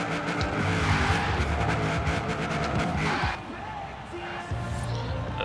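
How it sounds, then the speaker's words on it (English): A Buick Regal does a burnout in the racing game Forza Horizon 4, its engine roaring loudly as the tires squeal. The noise is continuous and dense, then eases off slightly partway through. "Let's heat up the tires again."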